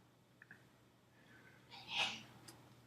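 A single sharp sneeze bursts out in a quiet classroom during a geometry lesson, rising from soft breaths into one loud, short expulsion at a moderate distance.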